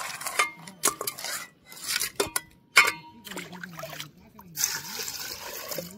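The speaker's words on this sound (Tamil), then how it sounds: "நான் வந்து நண்டும் எறாவையும் கழுவிட்டு இருக்கேன்" Crabs and prawns are rinsed in lake water at Chembarambakkam lake, with splashing, trickling water and clattering vessels in irregular bursts at close range, while someone talks over the work.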